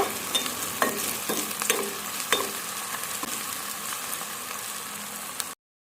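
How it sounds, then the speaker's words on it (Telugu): Ginger garlic paste sizzles and fries in a pan while being stirred, with repeated scraping strokes over a steady close sizzle, no voices, before stopping abruptly. "1/2 స్పూన్ అల్లం వెల్లుల్లి పేస్ట్ వేసుకొని కలుపుకుందాం. మంచిగా ఫ్రై అయిన తర్వాత"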